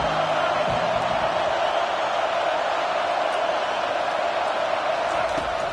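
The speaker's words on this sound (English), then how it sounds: "Listen to this crowd just shaking the girders of this place, trying to help their defense." Stadium crowd in the College Football 25 video game roars continuously and loudly throughout, a dense sustained wall of cheering with no breaks.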